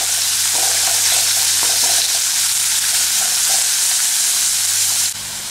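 Onions fry in oil for a lemon shrimp curry, a loud, close, continuous sizzle with occasional scraping stirs in the pan, easing off abruptly near the end.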